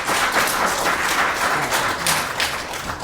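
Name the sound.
audience applause at board meeting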